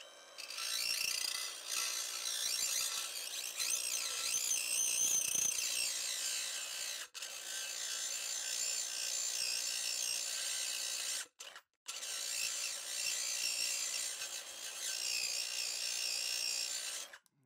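An angle grinder fitted with a diamond polishing pad whines steadily against a tile surface, a close, continuous high-pitched grinding hum that cuts out briefly twice before resuming.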